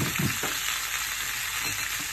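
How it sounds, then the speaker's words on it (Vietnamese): Vegetarian food stir-fried in a pan gives a steady, close sizzle and crackle of hot oil, with a few soft scrapes as it is stirred, and no talking. "Xào cái này cũng ngon lắm cả nhà."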